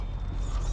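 Front RPM carrier bearings on a Traxxas 2WD Slash RC truck after a bad landing give off a brief, close, continuous creaking and grinding rumble.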